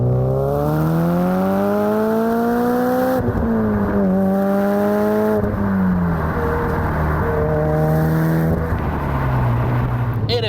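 A 2004 Subaru Impreza WRX STI Spec C Type RA's engine pulls hard toward its 8,000 RPM redline, rising in loud, close sweeps broken by brief drops at gear changes, then climbing again without any talk.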